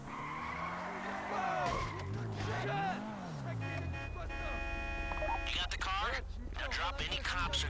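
Car tires skidding and squealing in GTA 5 Online, a loud sustained screech that rises and falls over a low engine drone, with voices talking over it.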